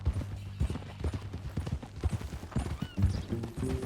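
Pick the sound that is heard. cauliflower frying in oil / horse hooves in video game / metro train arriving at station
horse hooves in video game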